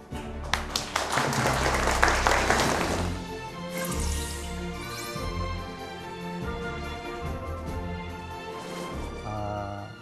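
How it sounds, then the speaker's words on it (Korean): A concert audience applauds and claps as the guest, poet and literary critic Jang Seok-ju, comes out at a book-reading talk event. Dense clapping is strongest early, then thins over steady music with a few sharp taps. "여러분 이분 나오실 때 큰 박수 부탁드리겠습니다"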